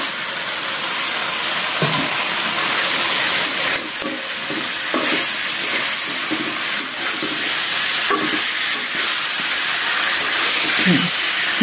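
Koi fish and potatoes, some fried and some raw, tipped into hot spiced oil in a Bengali curry pan, giving a steady loud sizzle with bursts of hiss and stirring clatter throughout.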